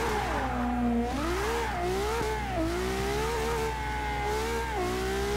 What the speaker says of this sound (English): Wheels be spinning everywhere.